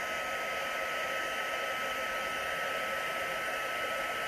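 An embossing heat tool blows hot air over colored resin poured into a silicone coaster mold. Its steady, loud hairdryer-like whoosh runs unbroken throughout with no speech.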